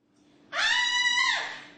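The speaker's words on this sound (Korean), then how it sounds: "여자 화장실에서 비명이 들립니다." A woman lets out a single sustained, high-pitched scream inside a women's restroom, loud and close, starting after a brief quiet moment and fading at the end, with no talk.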